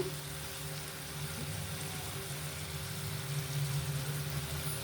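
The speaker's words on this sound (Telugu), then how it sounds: "ఇలా ఇంకొంచెం వేగాలి ఇలా ఈ కలర్ రావాలి" Indian gooseberries (usirikaya) fry in hot oil for an Andhra-style pickle. A steady, fairly quiet sizzle and crackle runs throughout under a faint background hum, and nobody talks.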